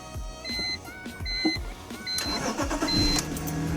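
A Nissan 350Z single-turbo engine with a dead battery cranks in several short, stuttering bursts before catching and running roughly, heard up close.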